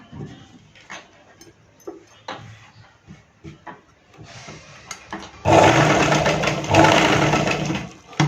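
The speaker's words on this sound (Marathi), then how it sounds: "असं शिलाई मारून घ्यायचं." Scattered quiet clicks and taps of handling a blouse give way to a loud, rapid whirring sewing machine stitching run that lasts about three seconds, with a short pause in the middle.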